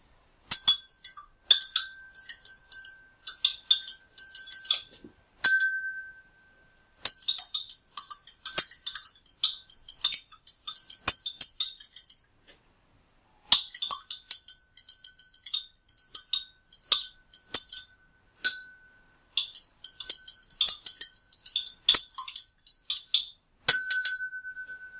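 A rod clinks against a glass container as liquid is stirred during an attempt to dye PA2200 with hydrochloric acid: rapid bright clinks in rhythmic bursts, separated by short pauses.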